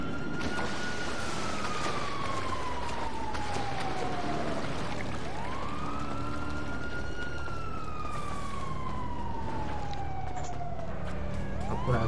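A police siren wails during a chase in GTA V, its tone sweeping slowly up and down in long repeated cycles, loud and close over a steady rumble of traffic and engine noise.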